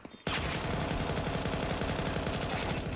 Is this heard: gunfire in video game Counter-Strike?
yes